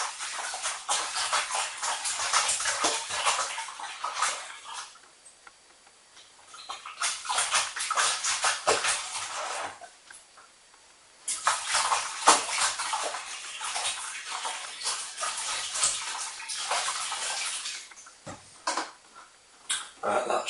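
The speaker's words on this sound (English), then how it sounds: "Just give it a swirl around and make sure it's all mixed in." Liquid swirls and sloshes in a plastic cider-making bucket for a homemade cider kit, in repeated bursts of splashing separated by brief quiet pauses, close and moderately loud.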